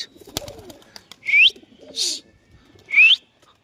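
Several Kolkata matraj pigeons being released to fly give three loud, rising coos close by, one after another, with a brief clatter near the start and quiet breaks in between.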